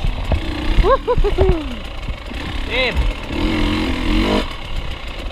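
A KTM dirt bike engine revs and bogs through a rough trail, its mid-pitched note rising and falling in short bursts close to the microphone, with a few brief shouts over it.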